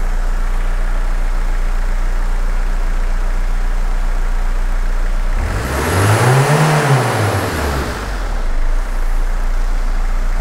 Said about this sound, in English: Let's see if the Peugeot will pass an emissions test whilst running on used engine oil.